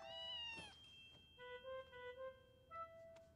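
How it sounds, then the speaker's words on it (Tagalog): A cat meows while being petted, giving a few short, clear, tonal meows close by, with quiet pauses between them and no talking. "gusto ng pusang to na hinahawakan siya."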